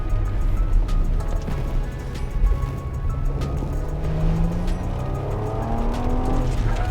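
A Bentley Continental GT Speed driven hard on a soaking wet track in Adelaide, its engine note rising and falling through gears with hissing tyre spray, steady and close throughout.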